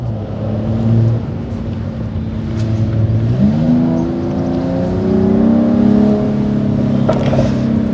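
Mercedes-AMG E53 Cabriolet with a 3-liter inline-six, engine droning and rising in pitch as it accelerates, with a few sharp crackles near the end, close and loud.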